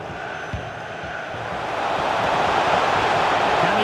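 A stadium crowd in the EA Sports FC 24 football game, Manchester City against Manchester United in the Champions League, produces a broad, steady roar that swells louder halfway through and holds, with a faint thump early on.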